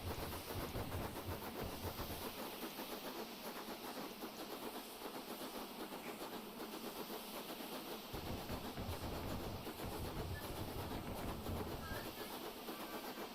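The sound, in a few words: steam locomotive exhaust beat changing with reverser, train simulator video game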